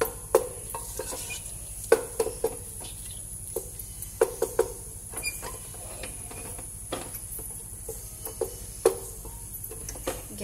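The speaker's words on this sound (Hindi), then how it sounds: "अब इसे अच्छे से मैश कर खुश्क कर लेना है या ड्राई कर लेना है बिल्कुल।" A utensil mashes cooked bottle gourd and mutton in a pot, making sharp scattered clacks and scrapes against the metal at an irregular pace over a faint steady hiss.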